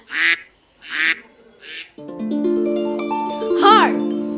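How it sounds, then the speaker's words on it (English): iPad duck ringtone: three short nasal quacks in a row, then a synthesized melodic jingle with a quack-like swoop near the end, played loud and close with no talk over it. "Duck."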